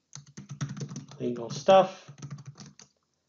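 Fast clicking of computer keyboard typing, heard up close under a continuous talking voice, with a brief louder vocal moment partway through before the tapping continues and stops.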